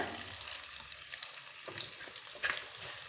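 Green chillies and curry leaves fry in hot oil for a fish curry, giving a steady close sizzle and crackle with occasional stirring scrapes and pops, with no voices.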